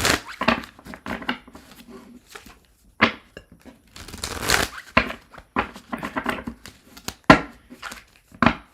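A deck of tarot cards is shuffled up close in a series of irregular papery riffles, slaps and crinkling bursts, some sharp and loud, with short quiet gaps between them.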